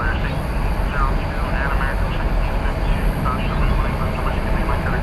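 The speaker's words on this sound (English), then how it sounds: "This is an Airbus A321 coming in from Phoenix," An Airbus A321 airliner arrives from Phoenix, Arizona at Dallas Fort Worth airport: a steady, loud engine roar fills the scene continuously, with people talking over it.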